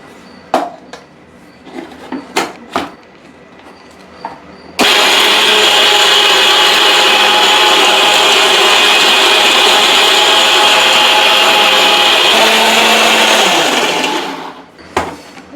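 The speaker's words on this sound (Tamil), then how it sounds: "இந்த பொருள் எல்லாத்தையும் இப்போ மிக்சியில் நம்ம அரைக்க போகிறோம்." A kitchen mixer grinder grinds masala ingredients, starting after a few knocks and clatters with a loud, steady whirring roar that runs for about ten seconds before winding down, followed by a final clunk.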